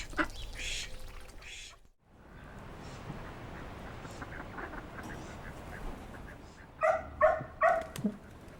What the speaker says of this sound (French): ce canard, c'est un canard mignon